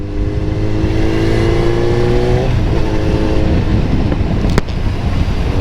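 A modified Kawasaki Z900 bigbike engine runs loud and close with a steady, strong drone, then its tone shifts partway through and a brief sharp crack cuts in near the end.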